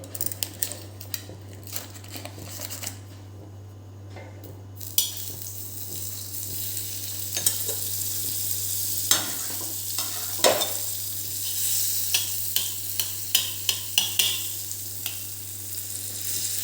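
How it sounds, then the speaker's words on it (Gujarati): Masala peanuts roasting in butter on a pan for katka dabeli street food, a close, continuous sizzle punctuated by repeated scraping and clinking of a spatula stirring, with a steady low hum beneath and no talk. "થોડીક મસાલા સિંગ આવી રીતે બંધ કરીને આપણે બટરથી શેકી લેવાનું છે"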